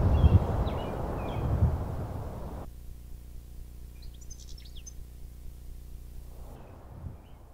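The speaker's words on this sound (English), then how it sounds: "It even adds birds and animal sounds to the world to make it feel less dead." Birds chirping in Fallout 4 with a weather mod, several short tweets heard over a soft wind-like background that drops away partway through, with no talk.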